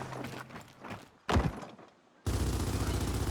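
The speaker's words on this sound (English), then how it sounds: "Normally when you shoot the Lancer, it has a spread to it that as you hold it down, it kind of sprays and there's a recoil." Lancer rifle fire in Gears of War 4 comes as bursts of rapid, dense automatic shots, a sustained spray, then a brief gap and a single heavy blast, before the firing resumes, loud and continuous.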